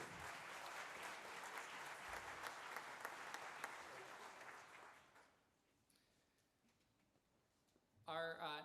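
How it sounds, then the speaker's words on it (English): Audience at a high school jazz band spring concert claps loudly for about five seconds, then the applause fades into a quiet room before a brief burst of sound returns at the end. "Please give her a round of applause"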